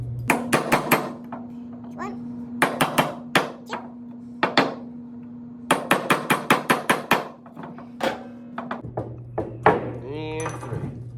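Sharp hammer strikes land in quick bursts of several blows each on a metal nail set driving broken nails in pallet wood, with a steady hum beneath and brief talk near the end.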